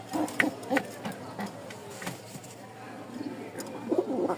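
Pigeons give soft, repeated cooing calls in short clusters at moderate distance, with quiet background noise between calls.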